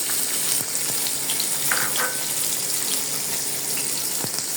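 Onions fry in hot oil in a pan on the stove, a close, continuous sizzle with light stirring clicks and occasional spitting pops.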